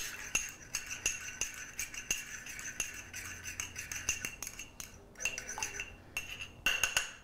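A spoon stirs sugar and water for microwave pudding, giving rapid repeated metallic clinks and scrapes against a cup or bowl, close and fairly quiet, with an irregular rhythm and no talking.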